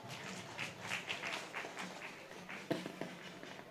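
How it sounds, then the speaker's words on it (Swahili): Faint, scattered clapping from an audience at an outdoor launch event, with uneven bursts of claps and a sharper clap near the end, heard quietly at a distance. "Tujipigie makofi mengi sana."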